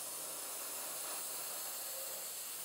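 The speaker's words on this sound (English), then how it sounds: "I'm just going to use a flat black, a matte black, and I'm going to airbrush this" Airbrush spraying flat matte black paint along panel edges of a model water tower, a steady soft airy hiss held without break, close and alone with no talk.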